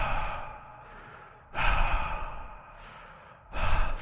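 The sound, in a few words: voice imitating loud breathing in the ear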